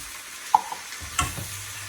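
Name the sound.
stirring vegetable pasta with basil in a pan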